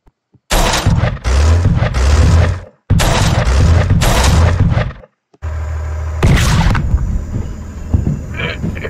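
Video game cannon fire and a bomb blast in Henry Stickmin, loud booming bursts in separate blocks broken by brief silences, followed by a sustained rumbling explosion with a sharp crack on top.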